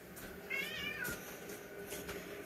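A cat lets out a single short meow indoors, faint and brief against quiet room background noise, with no one speaking.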